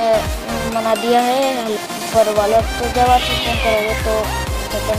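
Several cats meow outdoors, a run of loud, wavering calls close by that overlap with someone talking over them throughout.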